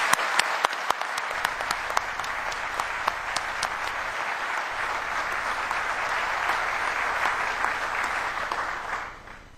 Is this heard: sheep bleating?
no